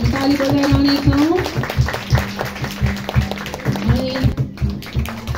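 A church congregation in Nepal claps along in an even repeating rhythm over music, with a voice speaking briefly.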